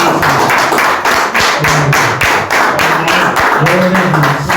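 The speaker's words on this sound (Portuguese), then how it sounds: "Quem pode dar uma salva de palmas?" A church congregation claps together in a steady, loud rhythm of close, sharp hand claps, with a voice and some low tones rising underneath.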